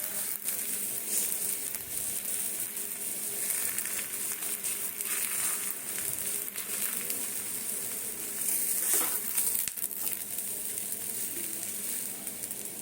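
Methi paratha sizzles in hot oil on a pan, a steady dense frying hiss throughout with occasional soft scraping and stirring sounds.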